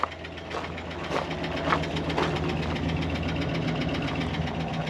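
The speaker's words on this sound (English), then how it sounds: "No knocking, just some lifter ticking." Ford Galaxie XL V8 long left parked, idling steadily with a light, rapid lifter tick over a low rumble, moderately close and alone.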